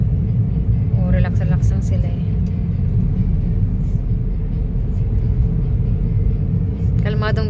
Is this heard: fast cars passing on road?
yes